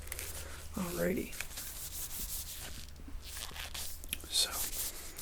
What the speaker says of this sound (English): I'm just going to rub in one or the other ear